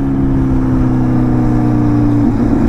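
A Benelli 600i superbike's engine hums at a steady, loud mid-range drone with sustained tonal whine while riding, with no speech over it.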